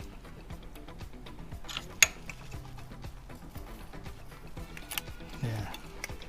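A ratcheting torque wrench tightens a bolt on a Yamaha V Star 1100 motorcycle, giving a steady run of soft, close metallic ticks with a sharper click partway through and a faint metal clink near the end.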